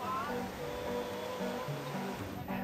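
Sea waves wash steadily onto Turtle Beach on the Riviera Maya, a constant broad surf rush with faint tonal sounds from the surroundings laid over it.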